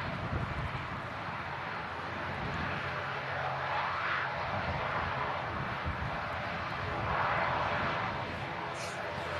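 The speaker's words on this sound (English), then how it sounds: "This ATR in from Dublin." An ATR turboprop airliner arriving from Dublin at Manchester Airport, its engine noise a steady distant drone with a rising swell near the end, heard through wind and a faint voice.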